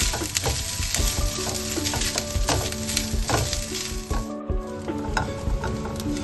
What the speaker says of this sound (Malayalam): ഈ തേങ്ങ നല്ല ബ്രൗൺ കളറാവണം, അതുവരെ ഫ്രൈ ചെയ്യണം.